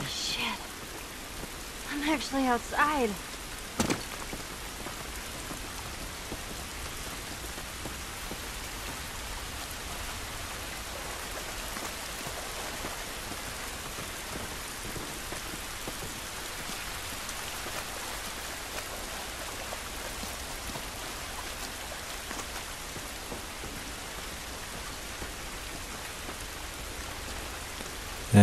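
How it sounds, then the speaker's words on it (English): Steady rain falls in the video game The Last of Us, a constant even patter and wash of drops throughout, with a few brief thumps and sounds near the start. "This rain ain't gonna do us any good."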